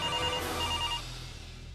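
A telephone rings in a Bhojpuri TV drama scene, a bright electronic tone repeating clearly and fairly loud for under two seconds, with no one talking.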